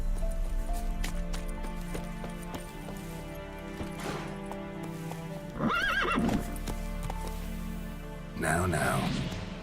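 In The Witcher 3, the horse Roach neighs twice in distinct whinnies over steady clip-clopping hooves and background game ambience, with a voice speaking briefly.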